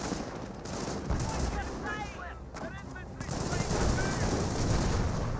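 Flak halftrack fire in Company of Heroes, a steady stream of rapid automatic bursts layered over dense battlefield noise, with whistling shell sounds and a voice speaking over parts of it.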